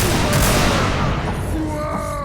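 Musket volleys crackle in a Mount & Blade line-battle match, a dense burst of overlapping shots rolling together over a steady bed of game noise and crowd-like murmur.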